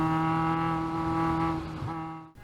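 Caterham race cars scream around a track during a Pacific Northwest race, one engine holding a loud steady high-revving whine before a quick lift and shift near the end.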